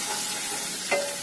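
Ginger paste and cumin powder are stirred in a hot pan while cooking bottle gourd with katla fish head: a brief, even sizzling hiss with a single short scrape near the end.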